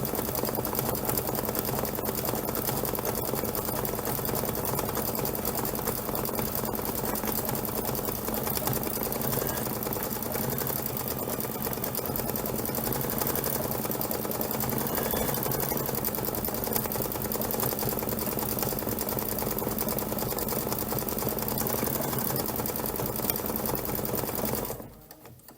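An embroidery machine stitches leaves and stems on a Kimberbell stitch sampler hoop. It runs with a steady, fast, even whir and needle chatter for about 25 seconds, then stops abruptly at the end.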